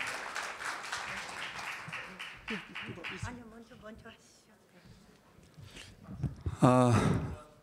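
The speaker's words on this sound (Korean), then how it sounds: "우리 최태지 회장님께도 다시 큰 박수 부탁드립니다." An audience at a Seoul arts and culture forum on the climate crisis gives a soft, crackling round of applause for about three seconds, followed by someone talking over a quieter room.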